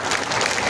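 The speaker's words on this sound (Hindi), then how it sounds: "आपकी तालियों के प्रणाम भी मंच तक पहुंचे।" A large crowd at a political rally in India applauds, a dense, loud, continuous wash of clapping filling the whole moment.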